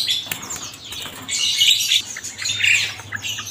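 Terucuk, yellow-vented bulbuls from East Java with large bodies, chirping and fluttering at a bird shop in Cibinong; several close, bright calls and wingbeats come in bursts over a low steady hum, with no talk.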